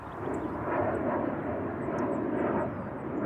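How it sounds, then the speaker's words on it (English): A jet airliner passes overhead near Portland International Airport, a steady low rumbling roar that swells slightly and holds over an open field, with faint bird chirps above it. "The second is the sonic boom-like low grumble of jet airliners"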